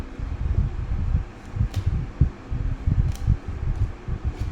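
An electric fan runs steadily indoors with a close, fluttering mechanical whir and faint irregular ticks, alone without talk.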